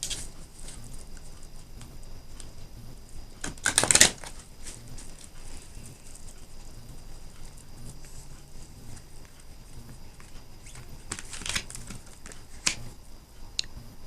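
Card shuffling: a couple of quick riffling bursts close by, separated by quieter handling and rustle.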